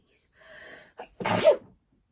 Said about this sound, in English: I feel I'm gonna sneeze.